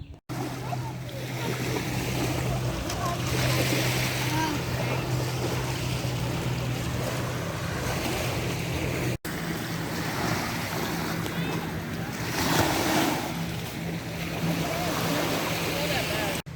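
Small waves lap steadily at a lake beach on Sebago Lake, a continuous wash of water and wind with a low engine hum running through it, no voices in the foreground.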